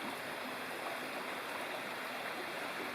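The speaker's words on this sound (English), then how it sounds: "This is Laurel Fork Creek." Laurel Fork Creek runs steadily right below a backcountry tent site, a close, continuous rush and gurgle of stream water with no voices.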